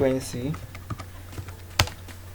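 Computer keyboard keystrokes during Photoshop retouching as a Ctrl G shortcut is pressed: a few light clicks after a brief bit of speech at the start, ending in one sharper, louder key press.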